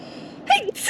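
A quick, sharp sneeze bursts out over a quiet indoor background, followed by a short breathy rustle.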